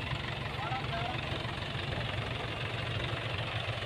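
A tractor engine idles with a low, steady rumble near a railway trolley at a station worksite, partly buried under someone talking.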